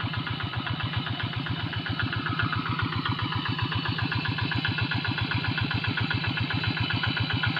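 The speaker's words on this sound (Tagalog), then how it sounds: "Yan mga makina nila guys, mga diesel yan" Diesel engines chug steadily at idle nearby, a constant, even knocking rumble with no pauses and no voices.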